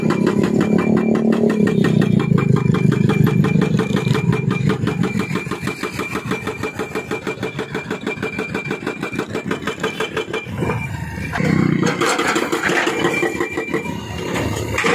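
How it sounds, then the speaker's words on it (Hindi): A heavy machine breaking up bridge remains at Gujjar Nala, Karachi, with a loud engine churning and rattling steadily throughout and a rougher surge of grinding toward the end. "मुसलसल मशीन मसरूफ़ है ब्रिज की बाकियात को तोड़ने में"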